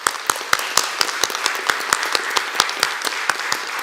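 Audience at a county board of supervisors business meeting giving a round of applause, steady scattered hand claps from a modest crowd, fairly close and continuous without speech.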